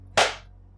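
A single sharp hand clap, made while trying to swat a fly indoors, loud and close with a quick decay over a low steady hum.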